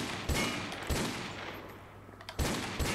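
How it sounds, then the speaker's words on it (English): Desert Eagle pistol fire in Modern Warfare 2 Remastered: about five sharp, loud game gunshots spaced unevenly, with a low rumbling tail and quieter ambient noise between shots. "The sound of the deagle is amazing."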